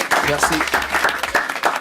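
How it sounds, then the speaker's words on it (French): Studio audience applause on a radio music show, a short burst of clapping running under a host's brief spoken thanks. "Déjà, respect, encore des applaudissements."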